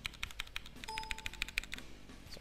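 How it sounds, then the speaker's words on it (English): Brisk typing on a gaming keyboard with brown Cherry MX tactile mechanical switches, a quick run of about a dozen close, crisp clicks, with a brief faint tone from a window partway through. "This gaming keyboard in particular contains brown MX Cherry switches, which are kind of a cross between the blues and the reds."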